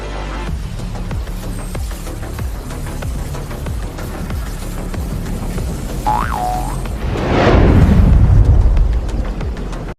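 Consumer fireworks for a New Year celebration, a rapid stream of small crackling pops followed by a louder rumbling burst near the end, with a brief springy whistle just before it.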